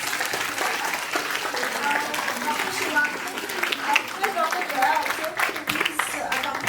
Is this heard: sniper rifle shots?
no